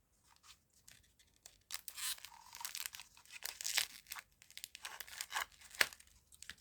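Plastic packaging around a spool of wired ribbon being cut and torn open, close crinkling and ripping bursts in an irregular rhythm, quiet at first and growing busier, with no talking.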